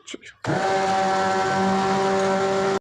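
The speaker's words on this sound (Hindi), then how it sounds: "10 से 15 मिनट इसको कटर मिक्सर से ब्लेंड करना पड़ेगा" A cutter mixer blends a homemade anti-dandruff shampoo mixture: after a brief spoken moment, a loud, steady motor whir starts abruptly and runs on evenly without break.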